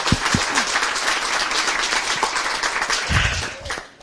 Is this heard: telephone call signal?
no